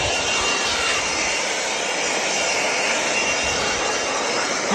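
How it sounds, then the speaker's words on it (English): DeWalt blower blowing dust off an old Massey Ferguson 1010 tractor, a steady loud broadband rush of air held continuously throughout, close by and without talk. "it's a nice little blower. Get some of the dust off this old girl."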